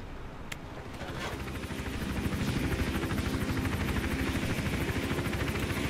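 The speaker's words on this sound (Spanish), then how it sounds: "El helicóptero va de izquierda a derecha, todo el rato mirando hacia nosotros." Helicopter in the Hitman Absolution video game: rotor chop builds from faint to a loud, steady thrumming that stays constant, with a couple of brief sharp game effects near the start.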